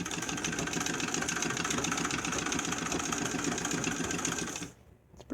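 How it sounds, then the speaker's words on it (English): A 1919 Singer 66 treadle sewing machine stitching leather, a steady fast mechanical whirring and clicking close by that runs evenly before stopping near the end. "you guys get to watch me treadle a little bit here"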